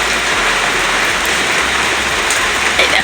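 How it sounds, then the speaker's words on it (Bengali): Steady rain pours down close by, a dense even hiss of drops striking the ground with no pauses. "দেখো বলতে বলতে বৃষ্টিটা আর একটু জড়িয়ে এলো"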